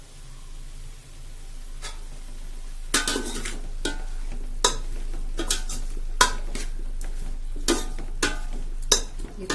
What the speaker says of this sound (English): You can see the vegetables getting blanched.